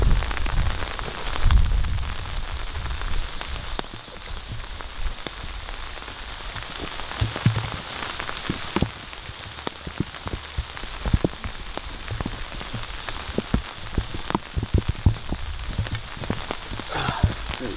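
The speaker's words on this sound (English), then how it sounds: "I've had to take shelter from the rain. That came really fast" Rain patters steadily on a tent during mountain wild camping, a dense close drumming with scattered louder drops landing on the fabric throughout, and no voices.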